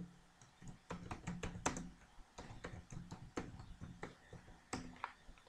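Typing on a computer keyboard while running a Python program, a quiet, close series of uneven clicks and clacks with a few sharper key strikes, no speech.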